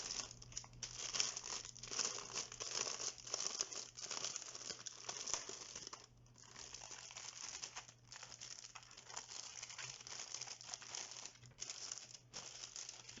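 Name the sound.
opening the plastic bag of a keyboard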